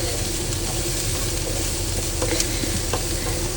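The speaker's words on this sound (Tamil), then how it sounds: "கொஞ்சம் எண்ணெயிலேயே வதங்கி வரட்டுக்கும்" Vegetables and garlic sautéing in a little oil for idiyappam kottu, a loud continuous sizzle with occasional scraping stirs, close up and without talk.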